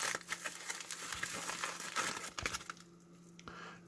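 A blade cutting open a plastic mailbag package gives a close, busy crinkle and rustle of plastic that eases off toward the end.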